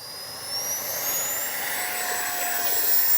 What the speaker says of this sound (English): Let's take off and see how she flies now.